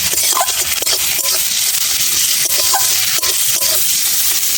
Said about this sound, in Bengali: হলুদ দিলাম, ভালো করে নেড়ে চেড়ে নেব।